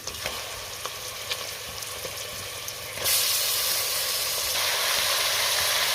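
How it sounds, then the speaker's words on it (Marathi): Turmeric-and-salt-coated mutton dropped into hot oil and fat in a pan: a quiet simmer suddenly bursts into a loud, broad sizzling hiss that stays strong and steady, with no talking. "आता हे मटण आपल्याला तीन ते चार मिनटं चांगलं तेलावरती परतून घ्यायचं आहे"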